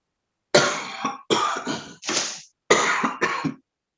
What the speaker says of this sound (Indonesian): Sorry, batuknya kumat.